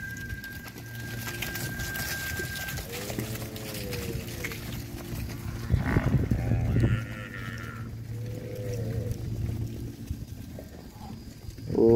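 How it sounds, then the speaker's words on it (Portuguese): Cattle, cows and calves being herded on a ranch, with scattered lowing and calls from the animals and a herder's shouts mixed in over steady outdoor background noise. "Ô, vaca véia."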